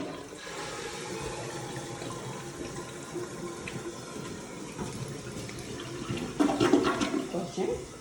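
A house toilet flushes nearby, a rushing swirl of water that builds toward the end and then refills, with a voice speaking over it.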